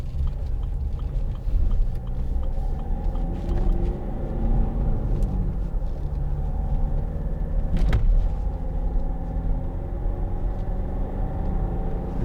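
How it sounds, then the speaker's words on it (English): Inside a 2010 Land Rover Freelander 2 TD4 climbing a hill, the diesel engine gives a steady low cabin rumble with road noise, and a brief thump comes near the middle. "The diesel engine pulls so good up hills and from low speeds, just effortless."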